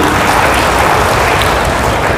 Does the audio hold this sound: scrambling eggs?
no